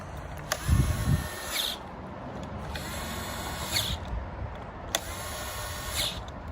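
Screws being tightened on a STIHL trimmer deflector, three repeated bursts of ratcheting, whirring driver sound spaced about two seconds apart, close and fairly quiet over a low background.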